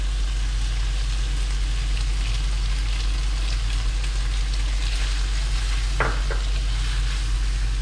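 Prawns stir-frying with oyster sauce in a pan for a garlic prawn udon, giving a steady close sizzle and frying hiss throughout with a couple of brief scraping stir clicks near the end.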